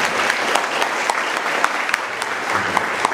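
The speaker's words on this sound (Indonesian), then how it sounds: "Tepuk tangan dong buat Pak Asep." Seminar audience applauding steadily for a guest, a dense, fairly loud wash of many hands clapping at once with a few sharper claps standing out, continuous for the whole stretch.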